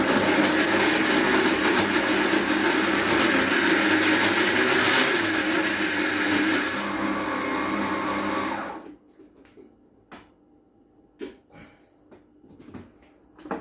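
A kitchen blender grinds carrots for a carrot cake, a loud steady whirring roar for about eight seconds before it cuts off, followed by a few light clicks and clatters of handling.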